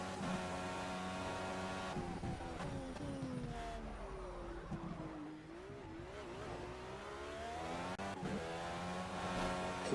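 An Indycar engine in a racing simulator at Laguna Seca drones with a harmonic whine, dropping in pitch under braking into a corner, then climbing again as it accelerates out, steady and close throughout.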